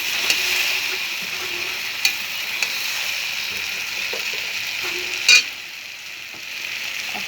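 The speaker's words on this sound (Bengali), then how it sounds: "এখন মশলাটা দিয়েছি, হালকা হালকাভাবে ভাজতে হবে" Taro stolons fry gently with spices in a pan, giving a steady soft sizzle with occasional scraping stirs and a brief louder clatter near the end.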